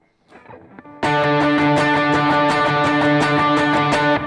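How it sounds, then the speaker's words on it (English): Guitar strummed in fast, even sixteenth-note strokes, dense driving chords after a brief quiet lead-in, with no space between strums. "but if I play 16th notes, it's going to sound like this."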